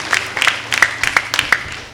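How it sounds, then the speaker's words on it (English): Scattered audience clapping at a school declamation competition, a few distinct sharp claps in an uneven rhythm, close and moderately loud over a quiet hall. "Please welcome her with a big round of applause."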